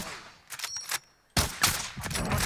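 Gunfire in a video game: a few sharp shots early on, then a louder burst of overlapping shots and rapid fire after a brief quiet gap, with no talking.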